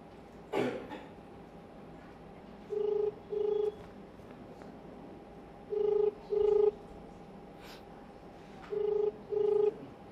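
A telephone call being placed: a brief dialing burst, then paired ringback tones repeating in a steady rhythm through the earpiece, with a cough near the start.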